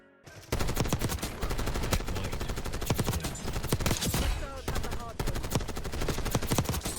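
XMG light machine gun firing in Black Ops 6, long sustained bursts of rapid, loud automatic gunfire with brief pauses between strings of shots.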